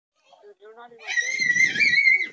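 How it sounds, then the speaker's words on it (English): A person screams loudly in a long, shrill, wavering shriek that follows a few softer vocal sounds, heard up close. "Stop screaming!"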